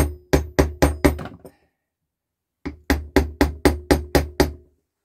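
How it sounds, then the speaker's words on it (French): Sharp hammer taps ring out against a metal Shimano Alfine 8 bicycle hub part, a quick run of five or six strikes, a pause, then a steadier series of about eight more. "Je tente au marteau."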